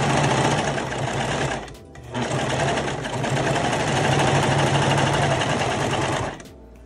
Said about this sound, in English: I take this and then we're just gonna serge this.